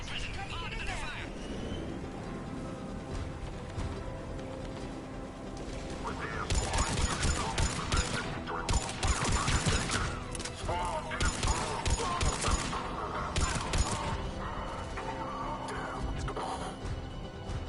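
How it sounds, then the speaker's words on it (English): Sustained gunfire and chaotic combat noise at a checkpoint in the video game Mass Effect 3, a dense, loud barrage of shots and impacts running throughout, with voices calling out over it. "The checkpoint is under fire!"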